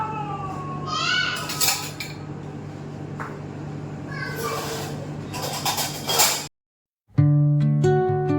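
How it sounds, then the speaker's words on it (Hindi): Washed dishes and cutlery being put away into kitchen drawers, with clattering metal and ceramic knocks throughout, a cat meowing briefly, a short silent gap, then a tonal chime-like passage at the end. "उसके बाद जब वो पूरे सूख जाते हैं तो तब ड्रॉर्स में लगाती हूँ।"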